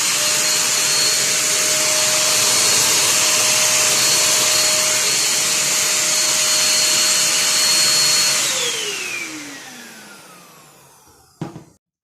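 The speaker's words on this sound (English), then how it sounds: "you've seen me do some practice run with this vacuum cleaner from IMARFLEX" An IMARFLEX IV-425B 2-in-1 portable vacuum cleaner runs with a loud steady motor whine and airy rush, then switches off and spins down, its pitch sliding lower before a small click at the end.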